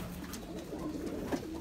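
Low, soft cooing of pigeons close by, a steady murmuring call over a hum of background noise.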